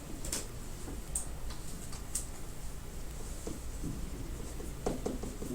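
A pen scratches across paper while working an inverse-equation math problem, with light, irregular ticks and strokes at close range over a quiet background.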